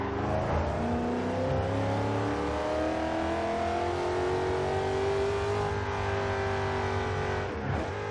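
A 2009 Chevrolet Corvette's 6.1-liter supercharged V8 roars steadily as it accelerates in Forza Horizon 2, a deep throaty growl climbing in pitch, loud and close throughout.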